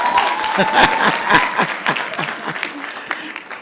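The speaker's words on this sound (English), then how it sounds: "Come on, clap for these girls." A crowd at a women's forum gives lively applause, dense clapping that swells early and then tapers off, with voices audible in the background.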